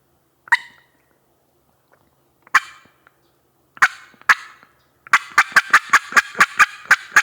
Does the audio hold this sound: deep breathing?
no